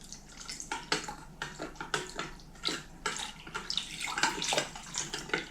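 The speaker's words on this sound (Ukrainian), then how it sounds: "розведемо це все водичкою" Water splashing and gurgling into a pan of sauce with sugar, salt and pepper in uneven bursts, fairly quiet and close, with no talking.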